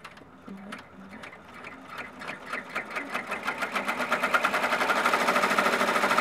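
A sewing machine stitching an appliqué tack-down on a pumpkin patchwork design, starting with slow separate stitches and speeding into a fast, even mechanical rattle. A voice speaks briefly near the start.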